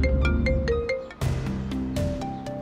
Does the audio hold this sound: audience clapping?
no